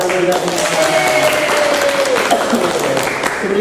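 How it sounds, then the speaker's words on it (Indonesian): Steady applause from an audience at a competition fills the clip, dense and continuous, with a voice talking over the clapping. "Oke, tepuk tangan kita semua."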